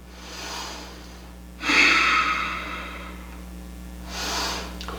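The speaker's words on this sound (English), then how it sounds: "And breathe." Deep, slow breaths during a yoga flow, a long loud exhale through the nose and mouth followed later by another softer breath, heard close over a steady low hum.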